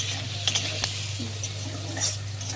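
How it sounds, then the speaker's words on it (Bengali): Thinly sliced onion frying in a pan for a pomfret fish recipe, a soft sizzle with a few stirring scrapes and clinks over a steady low hum. "একটু ভাজবো, মানে একটু নরম করবো যাতে মশলা দিলে তাড়াতাড়ি হয়ে যায়"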